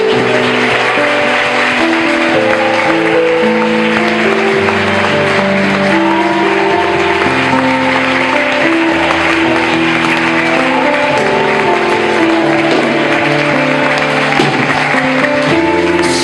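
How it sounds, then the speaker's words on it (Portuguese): A church congregation applauding during a worship service, loud continuous clapping blended with music and instruments carrying underneath, steady throughout with no clear speech. "Aplaudimos esse Deus."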